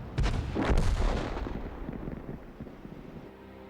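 An M44 self-propelled artillery gun in a video game fires a single heavy shot, a deep booming blast that rolls out and fades over a few seconds.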